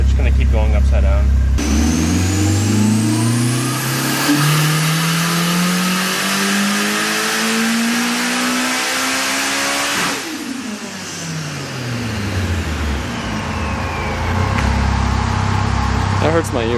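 A big-turbo Nissan S15 with anti-lag revs hard during a pull, the engine note climbing steadily, then dropping sharply and winding back down, loud and close, with people talking over it.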